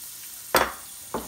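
Onions dropped into hot sesame oil in a pan for a spicy shrimp sauté: two sharp bursts of sizzle, the first louder and longer, each quickly fading over a quiet background.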